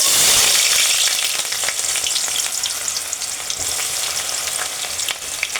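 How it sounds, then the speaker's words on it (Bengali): Chopped onions dropped into hot oil in a cooking pot, a loud sizzle bursting up at first, then a steady crackling fry with occasional stirring and no voices. "পাতিলের মধ্যে আমি তেল পরিমাণ মতো দিয়ে দিয়েছি, তেলটা গরম হয়ে গেছে। আমি এখন পেঁয়াজ কুচিগুলো দিয়ে দেব।"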